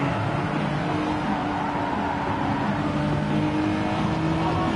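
A race car engine in a racing video game roars loudly as it accelerates out of a corner, a sustained, rising engine drone with no talk over it.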